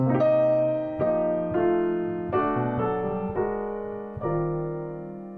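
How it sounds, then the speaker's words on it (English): Piano chords played one after another at a slow, even pace, each ringing out before the next, with the harmony shifting chromatically through a chromatic subdominant to a chromatic dominant. "the chromatic subdominant and then the chromatic dominant."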